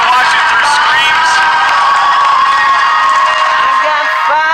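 Loud, sustained crowd cheering and whooping at a Schmoedown movie trivia event, with bright shouts and scattered clapping filling the whole stretch before easing slightly at the end.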